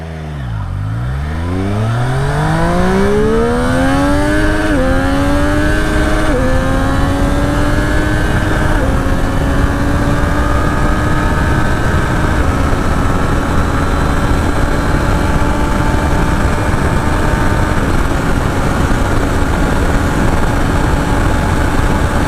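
A 2023 Triumph Street Triple RS motorcycle launches hard in sport mode, its engine screaming upward through several quick gear changes and then holding a loud, sustained high-revving drone at speed, close and with no talking.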